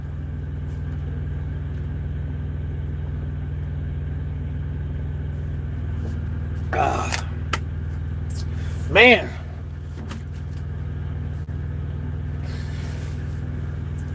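A parked truck's diesel engine idles with a constant low rumble throughout, while someone talks briefly and a couple of short sharp noises cut in.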